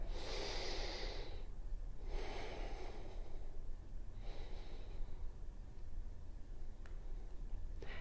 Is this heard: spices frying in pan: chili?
no